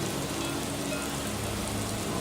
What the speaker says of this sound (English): it is raining in Whiterun, to the surprise of nobody